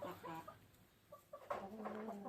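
Hens cluck and murmur softly, a low, uneven string of calls rising a little toward the end.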